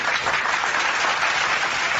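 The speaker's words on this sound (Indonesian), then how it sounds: "tepuk tangan untuk Bang Suma." An audience applauds with dense, steady clapping for a couple of seconds, close and even, with no talking over it.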